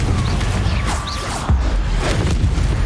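A Confringo spell bursts in Hogwarts Legacy, a loud low boom with crackling debris and whooshing magic streaks, followed by further heavy thuds against a rumbling background.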